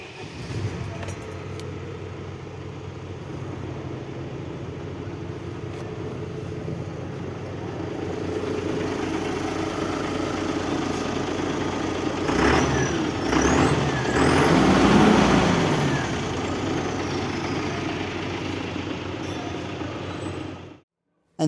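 An Ashok Leyland Boss LX 1215 BS6 six-wheeler truck with a diesel engine turns over and settles into a steady, close idle, its low rumble swelling briefly midway before cutting off at the end.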